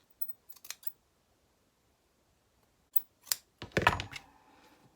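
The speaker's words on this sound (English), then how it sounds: "I'm going to just cut the very, very backing. I'm not going to cut through the fur, just through the backing layer only." Scissors snipping through the backing layer of faux fur for a sock gnome, a few separate close crisp cuts with quiet gaps between them and a louder cluster of snips near the end, no talk.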